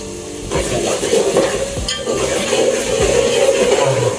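Mutton pieces and onions sizzle and fry in a pan over a wood-fired chulha, with steady crackling and periodic scraping stirs, loud and close throughout.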